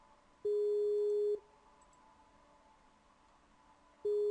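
An outgoing phone call rings unanswered, with a steady electronic ringback tone sounding for about a second, a longer silence, then the tone starting again, clear and without speech.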